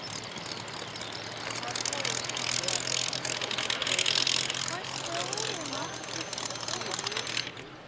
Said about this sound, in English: The Hurricane taxiing in ahead.